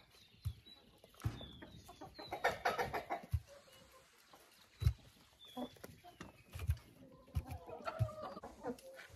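Chickens clucking in a poultry enclosure, old hens kept together with young birds, a steady mix of clucks and squawks from several birds, close and moderately loud, with occasional sharper calls.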